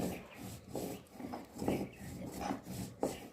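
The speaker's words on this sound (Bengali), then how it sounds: "এখন কপির পাতাগুলোর সাথে অল্প অল্প করে বেটে নেব" Kohlrabi leaves are ground with chili, cumin and salt on a grinding stone, giving rhythmic close rubbing and scraping strokes, about five or six passes in a few seconds.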